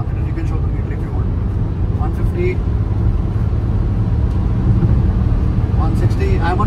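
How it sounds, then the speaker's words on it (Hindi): A luxury all-wheel-drive SUV in dynamic mode roars steadily at full throttle through a curve at high speed. The engine and road noise hold loud and continuous throughout, with voices talking over it. "I am on full throttle taking this curve road"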